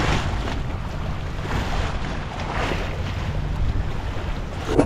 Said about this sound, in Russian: Даже волны бьют вот сюда вот, на землю.